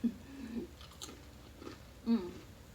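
Crackers are crunched and chewed with tea close to the microphone, in quiet bites and mouth sounds broken by short pauses, with a soft low hum from the voice in between.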